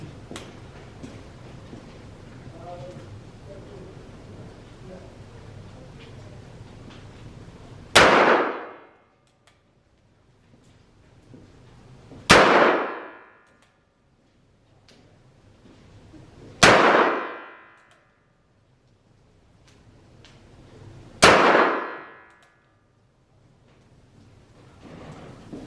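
Four sharp, loud .38 Special revolver shots with 158 grain rounds, spaced about four seconds apart, each a hard crack with a brief decaying tail over quiet outdoor background.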